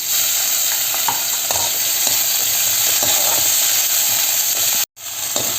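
Onions frying with ginger garlic paste for masala kuzhambu, a loud steady crackling sizzle with light stirring scrapes, cutting out abruptly for a moment near the end, no talk.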